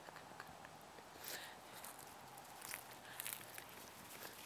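Dogs running up toward the listener, a fast scatter of soft paw patters and footfalls rising and falling at moderate distance, with faint outdoor background.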